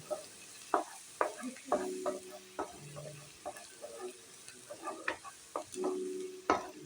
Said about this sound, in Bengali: রসুন আদাটা একটু ভাজা ভাজা হলে একটুখানি রং ধরলে তারপর পেঁয়াজটা দেব রসুনটা একটু ভেজে নেবো